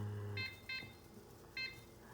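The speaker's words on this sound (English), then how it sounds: "There you go, the timer is going." A kitchen timer on the stove while onion soup simmers, three short high electronic beeps spaced irregularly, faint against a low background hum.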